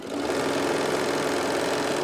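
A sewing machine runs at a fast, steady pace stitching fabric, a dense continuous mechanical whir close up with no voices.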